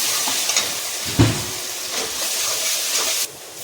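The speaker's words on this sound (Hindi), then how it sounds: "डालेंगे इसमें लहसुन और मिर्ची का पेस्ट" Garlic and chili paste sizzling in hot oil for a pea, potato and carrot curry, a dense close hiss with a brief burst of crackle midway and a quieter tail at the end.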